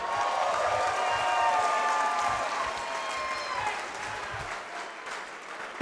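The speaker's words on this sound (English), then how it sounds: "Spartanburg makes some noise for both fighters" A crowd at a fight event in Spartanburg applauds and cheers for both fighters, a sustained wash of clapping at moderate distance that gradually thins out.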